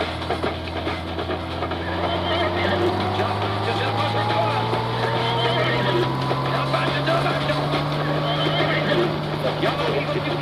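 A person imitates a horse's neigh using the hands, producing a long, loud whinnying tone that rises slowly, with voices talking around it.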